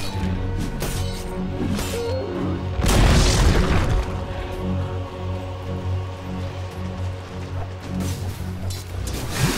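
Dota 2 tower attack, one heavy booming impact amid a constant clatter of game battle sounds, moderately loud and continuous.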